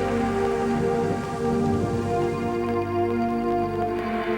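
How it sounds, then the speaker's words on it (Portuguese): Steady rain falls in an even, dense patter on surfaces, constant and moderately loud throughout with no voices. "precipitando-se em forma de chuva"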